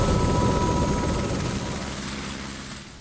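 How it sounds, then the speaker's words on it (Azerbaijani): A helicopter on a hunting trip in Greenland roars with a loud, dense, continuous rotor and engine noise, close by and slowly fading over a few seconds. "Vertolyotdan təzə düşmüşük."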